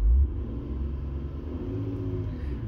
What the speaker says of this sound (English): that's rev the car, look.